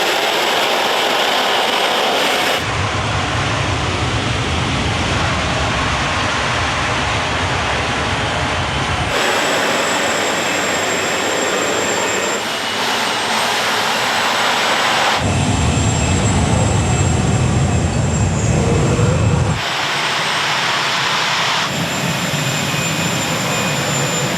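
Helicopter-type gas turbine engine of a T-80 tank running, a steady loud roaring whine with a high turbine tone on top, swelling in deeper rumbling bursts and easing back in between.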